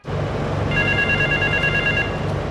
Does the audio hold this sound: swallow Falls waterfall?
no